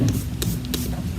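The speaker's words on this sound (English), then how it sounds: "I'm just gonna spray it with some water here." A few quick bursts of spray hiss from a spray bottle misting water onto powder, short and close, over a low steady background hum.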